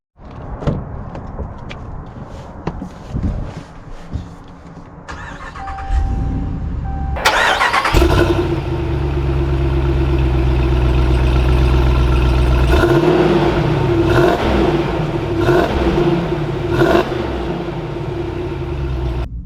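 A 2021 Ram Power Wagon 75th Anniversary Edition pickup: a door shuts, the engine cranks and fires up, then settles into a steady idle before revving and pulling away, the loud engine drone rising and falling as it drives off.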